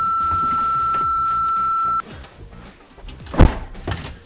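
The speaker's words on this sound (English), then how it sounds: "I've had to shut the van doors." A van's doors are shut: a steady electronic beep plays for two seconds, then, after some rustling, one loud thud lands close by, followed by fainter knocks.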